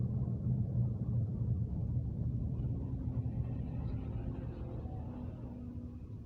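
A Dodge Dakota pickup with shifting trouble and a throttle position sensor fault, heard from the cab as a low, steady engine rumble in second gear that eases slightly toward the end, with no talking.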